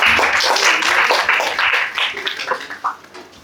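Audience applause at an ideathon event: a dense round of clapping fills the first seconds, then thins out into scattered individual claps that fade toward the end, with some murmuring under it.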